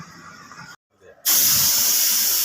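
Spray paint hisses onto a cracked motorcycle body panel in metallic grey: a steady hissing burst, a brief pause, then a louder, closer continuous spray.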